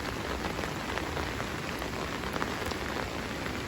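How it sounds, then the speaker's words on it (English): Heavy rain keeps falling on an uncovered back porch, a constant close wash of spattering drops with occasional sharper splashes standing out, and no one speaking. "The rain is went hard and then slow, and then come back again"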